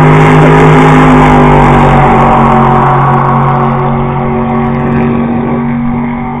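A Jaguar XJ6 V8 and a Valiant at a drag strip roar loudly at full throttle, a strong sustained engine howl that fades slightly toward the end.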